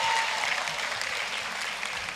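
A high school graduation audience gives a round of applause, a dense, steady wash of clapping from a large crowd that gradually fades.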